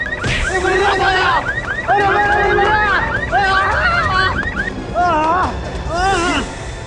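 A loud warbling siren rises and falls repeatedly in quick sweeping cycles, with muffled voices underneath.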